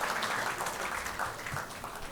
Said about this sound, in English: Big round of applause for the first session of GIMS 2023, ladies and gentlemen.